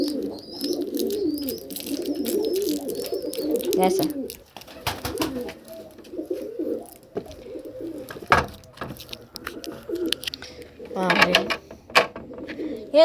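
Pigeons coo in low, repeated throaty bursts close by as they are fed, with fluttering and handling knocks in between, while someone speaks briefly partway through.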